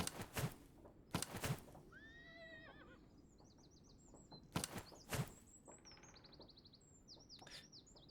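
Horse whinnies in the Master of Command video game, two long neighing calls among bird chirps and occasional hoof clops, set against a quiet outdoor ambience.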